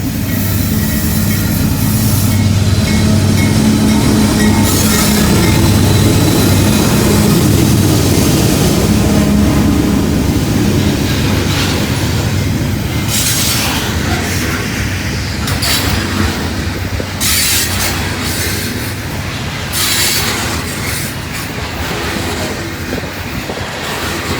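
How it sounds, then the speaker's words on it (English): A long coal train of loaded cars rolls by loudly and close, wheels clattering and rumbling continuously, with occasional squeals over the steady roar. "Looks like a coal train."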